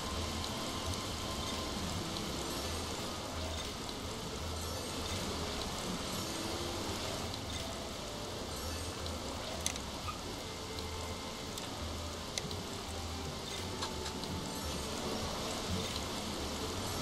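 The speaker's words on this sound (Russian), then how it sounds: "О нет, дождь пошел." Steady, dense rainfall in the Bee Movie video game hisses continuously at a moderate distance, with occasional louder drops standing out from the constant wash.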